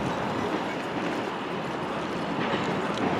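A freight train hauling UPS trucks crosses a railroad bridge, a steady dense rumble and rattling roar at middle distance with no clear breaks.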